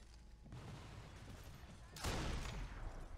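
Gunfire from an M1 Garand rifle in the video game Sniper Elite 4, a sharp loud report at about two seconds rising out of steady broadband game noise, with a brief tail afterward.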